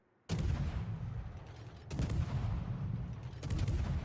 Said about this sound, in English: Opens fire on the Flint.